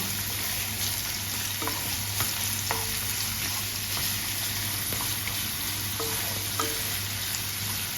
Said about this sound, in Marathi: तो चांगल्या प्रकारे हलवायचा। तो लालसर होईपर्यंत कांदा करायचा आहे आपल्याला।